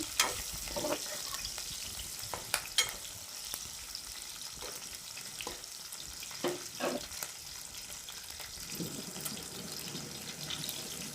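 Cucumber pieces and green chilli for a pickle cook in a pan, a soft continuous sizzle and frying hiss with occasional stirring scrapes, close and moderate.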